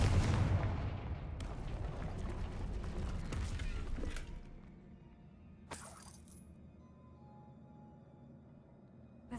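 A Confringo spell blasts in Hogwarts Legacy, a loud rumbling burst that fills the opening seconds and then decays into a low, fading rumble, with a sharp crack partway through.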